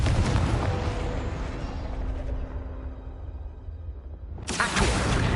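A Confringo spell explosion in Hogwarts Legacy, a loud booming blast that rumbles and fades over several seconds before another sharp burst hits near the end.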